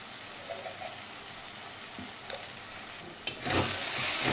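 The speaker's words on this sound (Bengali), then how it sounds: "এবার মশলাটা ভালো করে কষিয়ে নেব।" Ground coriander, cumin, turmeric and chilli powder with ginger-garlic paste fry in a pan, giving a steady, faint sizzle with a few soft scrapes and a louder hiss near the end.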